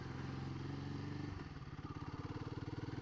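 A small Ford car engine cranks and catches, then settles into a rapid, even chugging idle with regular pulses, close by and moderately loud, with no talking over it.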